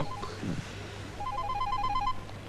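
Telephone ringing indoors with an electronic warbling ring in two bursts, a short one at first, then a longer trill after a pause, with a brief thump between them.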